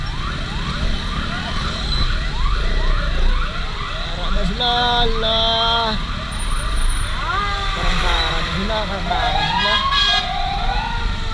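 Several fire truck sirens wail and overlap, rising and falling loudly over traffic rumble at a fire, while people talk nearby.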